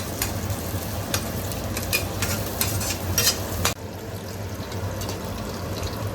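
Prawn biryani masala with green chillies being stirred and fried in a pan, a steady close sizzle with scraping stir strokes, briefly quieter after a sharp clatter partway through.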